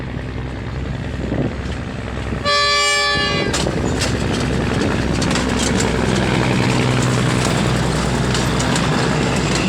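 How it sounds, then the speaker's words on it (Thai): RHN diesel railcar, number 1023, working a delayed Udon Thani–Nakhon Ratchasima local train out of Thanon Chira Junction station, with a loud steady engine roar and a brief sharp horn blast near the start. "วันนี้ได้รถดีเซลล่าง RHN กสข 1023ทำขบวนมา นะครับ"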